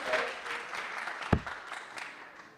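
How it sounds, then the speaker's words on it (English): An arena audience at a darts match applauds steadily in a dense, even wash of clapping, with one sharper clap or knock standing out partway through. No voices rise above it. "Yeah, plenty to applaud as well tonight."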